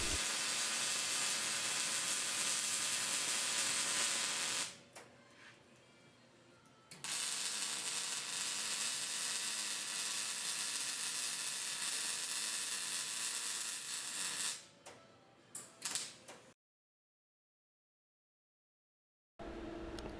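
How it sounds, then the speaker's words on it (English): Welding a hinge cap onto the side of a steel bumper for a tire carrier, a loud continuous crackling hiss held close up for long runs, broken by brief pauses and a stretch of silence. "Now weld the hinge cap on the side of the bumper."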